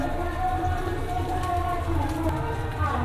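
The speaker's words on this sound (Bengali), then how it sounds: "আম্মু এখন এটা ভালো করে ভেজে নেবে এপিট ওপিট করে" A potato and beef mince burger patty fries in a pan with a steady, close crackling sizzle, while a voice talks over it.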